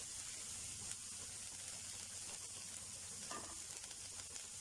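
Finely chopped garlic fries in oil for a chicken samosa filling, giving a faint, even sizzle and hiss with a few soft stirring clicks. It plays alone, without speech.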